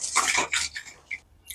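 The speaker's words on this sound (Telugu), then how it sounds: "ఇప్పుడైతే వాటర్ తో కడుక్కుందాం" Goat trotters rubbed with salt and turmeric are rinsed under water, giving a few short bursts of splashing and pouring that stop and start, close by with no talking.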